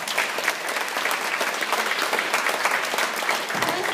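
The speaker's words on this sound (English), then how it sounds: "So clap for yourselves." Steady audience clapping at an alumni awards event, a dense patter of many hands at moderate level that continues evenly without voices on top.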